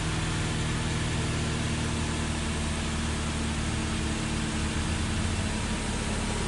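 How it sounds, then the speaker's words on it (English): A Suzuki Grand Vitara engine idles steadily, a close, constant low hum with a faint whine, unchanging and uninterrupted throughout, with no talking. "So just got the car idling a little bit."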